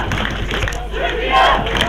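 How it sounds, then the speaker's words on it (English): Serbia fans at a European Junior Championships American football game against Italy chant and roar in a loud, steady crowd wall that swells near the end, with a commentator's voice faint underneath. "Serbia fans cheering for the team that has the opportunity now to regain the ball possession"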